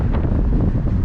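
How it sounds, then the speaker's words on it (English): Strong wind buffets the microphone in a constant, heavy roar with low rumbling gusts and no other sounds, outdoors on Collins Avenue by the Deauville Beach Resort. "it is so windy"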